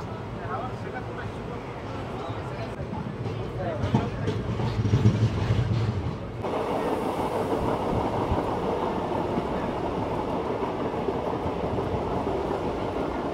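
A crowded passenger train pulls out of Rameswaram station bound for Pamban Bridge, a steady broadband rumble of wheels and carriages that shifts character midway and continues loud and close, with voices mixed in.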